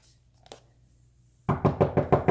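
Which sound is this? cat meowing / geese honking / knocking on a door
knocking on a door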